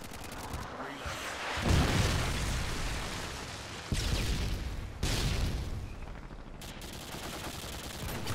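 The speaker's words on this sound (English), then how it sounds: "Predator missile inbound." Explosions and gunfire from a Predator missile strike in a multiplayer shooter match played with an Intervention sniper rifle, with loud booming blasts near 1.7, 3.9 and 5 seconds over a dense, continuous roar of battle.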